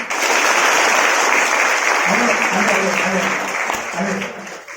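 A crowd at a direct selling business seminar claps loudly for a couple of seconds, then the applause fades as a voice begins speaking.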